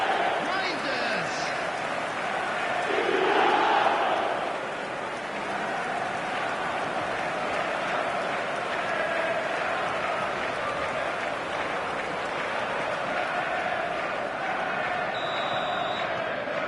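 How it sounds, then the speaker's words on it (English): Stadium crowd noise in an EA Sports FC 26 Premier League match, a broad steady roar of spectators with a slight swell early on, continuous throughout without clear speech. "the crowd are reacting to that now"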